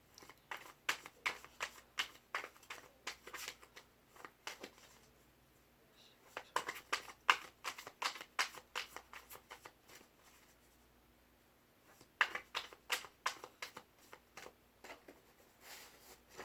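Tarot cards are shuffled and drawn by hand up close, making quiet bursts of rapid papery flicks and riffles separated by short pauses.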